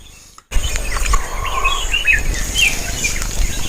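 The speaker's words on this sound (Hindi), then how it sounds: "यहाँ पे चिड़िया की आवाज़ इतनी ज़्यादा है" Several birds chirp and trill nearby over a low outdoor rumble, with bright, quick tweets scattered throughout after a brief quiet start.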